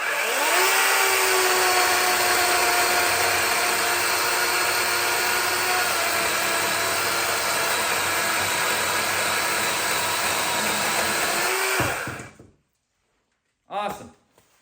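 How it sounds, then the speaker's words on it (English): A DeWalt 12-inch cordless chainsaw whines at high speed for about twelve seconds, its pitch sagging under load as it cuts wood, then stops; a brief voice follows. "Now we're getting into real chainsaw territory."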